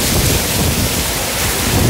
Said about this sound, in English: As you can hear, it's raining really bad.